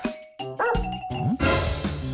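A dog barks in a few short, loud bursts close by, mixed with other busy indoor noises and sound effects, with no talking.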